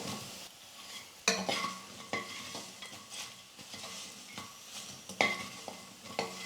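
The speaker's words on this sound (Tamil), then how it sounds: "மிளகுத்தூள் சேர்த்து நான் ஸ்டவ்வை மீடியம் ஃப்ளேமில் வச்சுட்டு 1 நிமிஷத்துக்கு நல்லா நான் கலந்து கொடுத்துட்டேன்" A potato pepper fry is stirred in a pan over a medium flame, with repeated scraping and clinking strokes of a utensil over a light sizzle.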